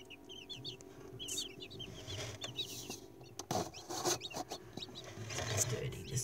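Young chicks, including newly hatched ones, cheep in high, quick chirps inside a brooding box under a heat lamp, close and fairly quiet, with faint rustling and brief knocks among them.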